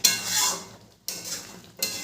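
Egg korma stirred in a pan after the lid comes off, with three scraping, sizzling strokes of a spoon separated by short pauses.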